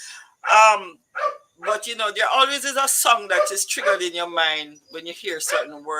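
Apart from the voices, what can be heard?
dogs barking excitedly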